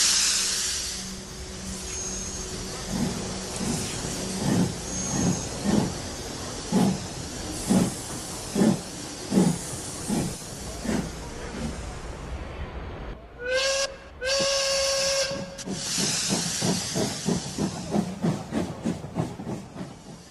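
A steam locomotive chuffs rhythmically with repeated hissing bursts, then a loud sharp whistle blast, followed by faster chuffing as it pulls away.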